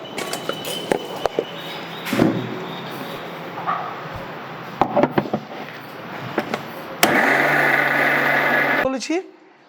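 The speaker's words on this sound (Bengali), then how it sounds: "তো আমি আজকে তাড়াতাড়ির জন্য একটু গ্রাইন্ডিং করে নেবো" Leftover cooked rice goes into a mixer grinder, and after some clattering and handling noises the motor whirs loudly and steadily for about two seconds, then cuts off.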